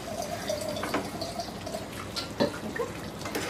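Water poured from a tap or vessel into chicken curry cooking in a home kitchen, a soft continuous trickle with faint splashes and drips, fairly quiet throughout.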